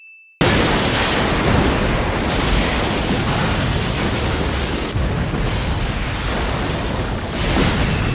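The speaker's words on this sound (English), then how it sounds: "This insanely awesome looking explosion and the quality within it of ships being caught up and destroyed themselves." A massive explosion tears through a fleet of spaceships in a Cowboy Bebop anime scene, a loud sustained roaring blast with rumbling debris that holds steady for several seconds after a brief quiet start.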